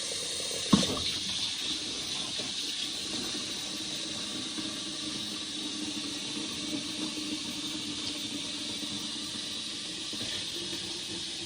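Fresh water pours steadily into one side of a Rinse Wise mop bucket, a continuous close splashing and rushing stream with a small clunk near the start and no talk.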